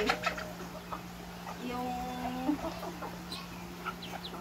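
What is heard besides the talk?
native chickens clucking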